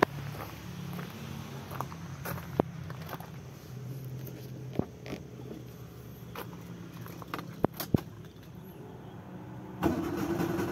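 A Daihatsu Ayla car engine with a leaking exhaust cranks and comes to life amid scattered clicks and knocks, the motor rumbling low and steady, then rising louder at the very end.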